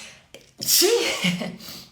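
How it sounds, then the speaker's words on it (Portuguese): A single sharp sneeze with a quick breath in beforehand, loud and close, followed by a short voiced tail. "Vamos espirrar ao vivo."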